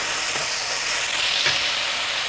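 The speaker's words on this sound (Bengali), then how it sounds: "ঠিক এভাবে নেড়ে চেড়ে ভেজে নিতে হবে।" Onion, garlic and ginger sizzle steadily in a hot pan, a continuous close hiss broken by two soft scrapes of a spatula stirring, with no talking.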